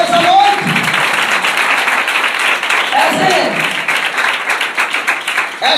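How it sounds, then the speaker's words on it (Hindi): Congregation at a church service breaks into loud, sustained clapping that stays full and even for several seconds, with a preacher's voice calling out over the applause. "जोरदार ताली खुदा को बुला करिए"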